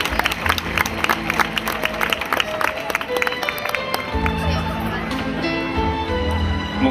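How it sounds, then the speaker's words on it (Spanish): Audience at a Serranilla de Mágina pageant in Huelma clapping for a town representative, lively applause mixed with music and crowd noise, with talk over the top. "Reciban con un fuerte aplauso a Celia Andreu"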